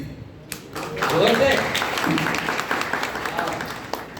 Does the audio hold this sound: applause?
yes